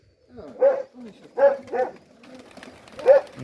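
Soft, throaty pigeon coos recur in three or four short phrases, close by, with faint background noise between them.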